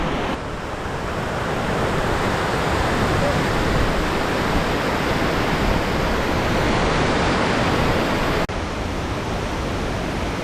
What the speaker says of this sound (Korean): 폭포 근처에 오니까 진짜 무슨 장마철 비 오듯이 물이 쏟아져가지고